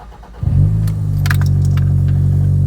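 A Toyota Celica GT4 ST185 with a history of ignition coil faults cranks briefly after a jangle of keys, catches and settles into a steady, loud idle, close by with no talking.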